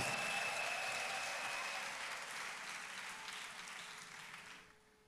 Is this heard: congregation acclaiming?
yes